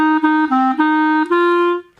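Sustained wind-instrument tones played evenly in a band-class demonstration, a short run of connected notes at equal loudness with small breaks between them, ending on a held note that fades out.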